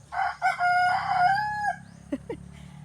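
A rooster crows loudly close by, one long drawn-out call, followed by a couple of short clucks from chickens.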